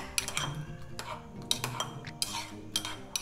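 Pilla, an Apatani tribal dish from Arunachal Pradesh, being mixed in a dish, giving a run of sharp metallic clinks and scrapes of utensil against dish in an uneven rhythm, close and fairly quiet, with no talk.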